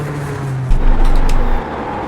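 Engines of BMW GT3 race cars on the Nurburgring GP circuit in iRacing, a steady drone that swells into a louder surge for about a second as another car passes close, then settles back.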